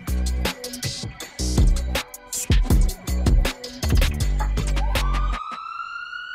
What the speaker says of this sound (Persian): آمبولانس